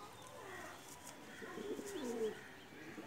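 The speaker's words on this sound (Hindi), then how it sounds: "प्रवासी कबूतर है।" Soft cooing from a black Cheena pigeon, a Pakistani fancy breed with dry feet, low murmuring coos rising in the second half over faint background hiss, close and fairly quiet.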